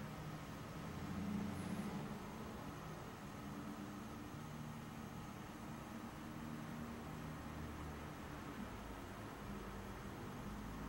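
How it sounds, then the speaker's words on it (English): Faint, steady road traffic rumble outside an 1897 Masonic mansion in Kentucky, a low continuous wash of passing vehicles with no clear individual events. "There's a lot of traffic, a lot of background noise that you gotta talk over."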